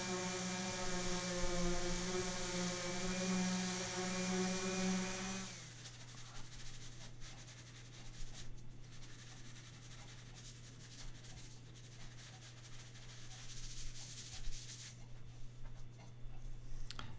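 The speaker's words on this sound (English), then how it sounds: "Back to sanding." A power sander hums at a steady pitch on a wooden cornhole board for several seconds, then cuts out, leaving a low hum with faint rubbing and scraping sounds.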